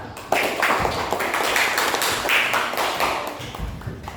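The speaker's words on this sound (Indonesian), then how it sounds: "kita tepuk tangan untuk kelompok 1" A small classroom group claps together, quick uneven patters of hands filling the room for a few seconds before tapering off.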